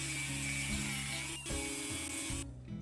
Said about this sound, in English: before I go hitting with the Dremel tool